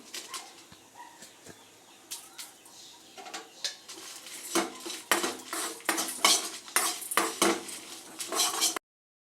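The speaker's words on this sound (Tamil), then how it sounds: "இப்போ மிளகா ஜீரகம் மிளகு எல்லாமே நம்ம லைட்டாக நம்ம சூட் பண்ணி வறுத்து எடுத்துக்கலாம்" Dry chilies, cumin and peppercorns are stirred in a metal kadai, giving scattered scraping clinks and rattles that start sparse and grow denser and louder toward the end, with no voices.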